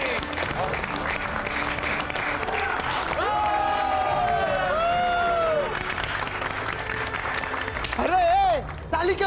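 Sustained clapping from an audience at a comedy stage show, dense and continuous throughout, mixed with crowd noise and overlapping voices.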